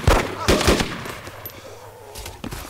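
Gunfire in the video game DayZ: a few sharp, loud shots crack in quick succession at the start, then one more report near the end, with a voice briefly audible.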